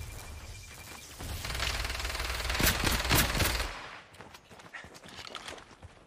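Gunfire from the video game Warzone comes as rapid automatic bursts of crackling shots, building to a dense volley, then thinning into scattered pops, fairly faint.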